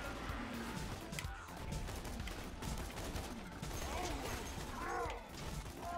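Rapid gunfire fills a Borderlands 2 firefight, loud, dense and nearly continuous, with overlapping shots, mechanical clatter and a few crashing impacts.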